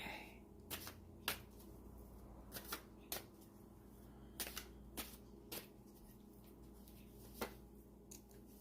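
Cards are shuffled for a card reading in several quick riffling bursts and soft snaps spread across a quiet room, faint and close.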